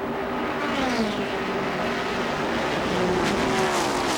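Race cars at the 1981 Daytona 500 roar steadily in a close multi-car draft, a continuous loud engine drone with a rising pitch surge near the end and no voices.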